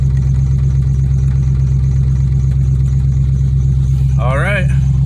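Car engine idling close by, a loud steady low rumble running throughout, with a brief voice near the end.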